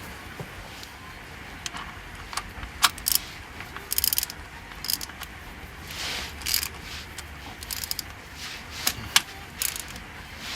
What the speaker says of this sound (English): so all that's left is to tighten it up, which I'll do now